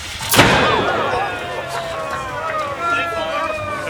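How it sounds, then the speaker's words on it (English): A cannon fires once at a wooden boat festival, a sharp loud boom early on that rolls away in a long echoing decay under crowd noise. "we just fired the cannon"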